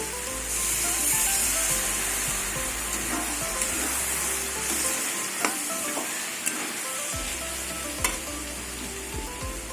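Spices and turmeric for a green peas ghugni sizzle in a pan with a splash of water, under a steady frying hiss broken by repeated scraping stirs and a few sharp clicks of the spoon against the metal.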